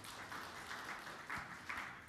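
A church congregation applauding during a sermon, a soft, steady wash of clapping heard faintly from a distance, with no voices over it.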